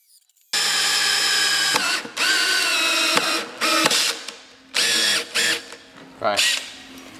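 Cordless drill on an unbranded Makita replica battery driving screws in loud, close whirring bursts of a second or so each, separated by short pauses and clicks as it starts and stops.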